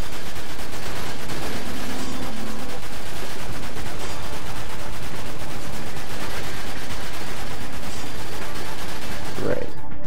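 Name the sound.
mobile turret gunfire in video game Dirge of Cerberus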